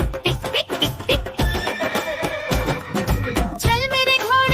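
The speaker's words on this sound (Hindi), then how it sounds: "चल मेरे घोड़े चल" A horse neighs in a bright, wavering whinny over a Hindi nursery rhyme track, with clip-clopping hooves keeping a steady rhythm and a final high whinny near the end, loud and close.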